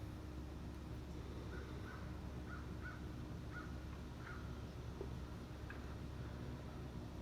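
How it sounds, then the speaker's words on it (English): Birds chirp and caw faintly at dusk over a farm town, scattered short calls spread across a steady low rumble of distant background noise. "At night like this, sun going down, birds are chirping."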